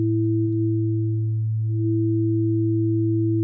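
Two steady FM synth tones from Ableton Operator sound together as separate notes or harmonics, a low one and a higher one, held clean and unbroken with a slight wobble near the middle.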